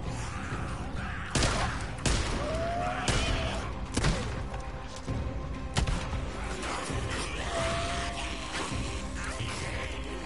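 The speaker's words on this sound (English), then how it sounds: "All this gunfire isn't helping us." Gunfire in the video game Days Gone as the player fights a large zombie horde: sharp cracks and crashes at irregular intervals over a dense, roaring game soundscape, with a voice briefly heard.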